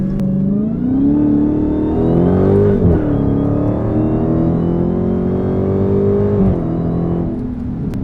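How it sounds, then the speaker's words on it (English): Dodge Challenger Hellcat accelerating hard, its loud close engine note rising in pitch, then dropping sharply at gear shifts around three and six and a half seconds before climbing again. "Man, that transmission's sweet. The shifts are surprisingly well."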